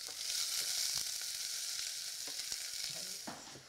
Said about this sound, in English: You allow that to sizzle for about just 5 to 10 seconds. You can hear it crackling already.